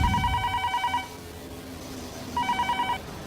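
A telephone rings in two bursts of rapid bell trills, about a second each, separated by a pause of more than a second, fairly close and clear over a quiet low background.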